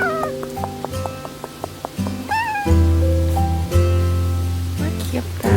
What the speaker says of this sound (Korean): 어제 너 왔던 고양이지?